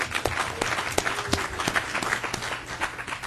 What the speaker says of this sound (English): I just want to applaud George Teal being here tonight